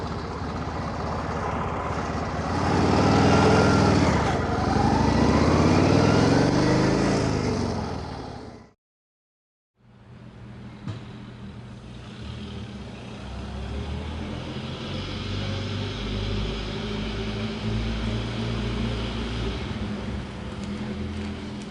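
A 1931 Indian 101 Scout motorcycle rides past on the road, its engine rising loudly as it accelerates, then after a brief cut a steadier, more distant running hum continues.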